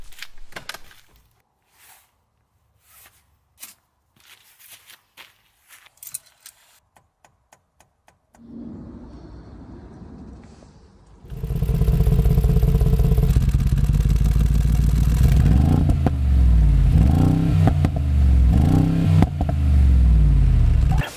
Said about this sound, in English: This V8 is monstrous. It sounds so crisp, throaty, and deep.